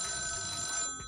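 An old-style telephone rings with a steady, continuous bell tone at moderate volume, then cuts off just before the end, with no voices over it.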